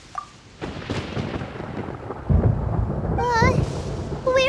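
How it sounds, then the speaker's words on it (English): Thunder in Genshin Impact rolls in as a heavy, rumbling boom that swells and holds, with rain-like noise underneath and a brief high sung or spoken voice breaking in near the end. "Paimon hears thunder!"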